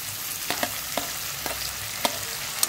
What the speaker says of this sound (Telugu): ఇది కొంచెం వేయించుకోవాలి. ఇందులో టమాటా కూడా వేసుకోవాలి.